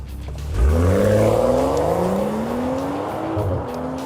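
A 2016 BMW M235i xDrive with all-wheel drive launches hard, its engine note climbing steadily through the revs and shifting up as it pulls away, loud and close with no talking.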